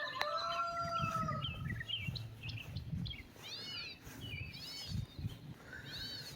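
Inside a farm chicken coop, hens cluck and murmur in low, uneven bursts close by while higher bird calls chirp and whistle over them, fairly quiet with no talk.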